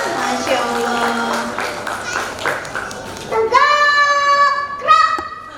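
Audience applause with crowd chatter at a kindergarten arts performance by TK Islam At-Taqwa, steady clapping under voices for about three seconds before sustained bright tones take over.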